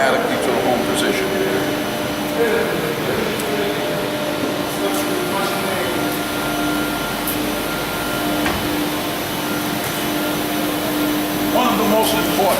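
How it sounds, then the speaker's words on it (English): The hydraulic pump and motor of an 800-ton UBE aluminium extrusion press make a steady, loud mechanical whir and hum that carries on without a break, with a voice talking faintly over it. "this pump will stop operating, the motor will stay running"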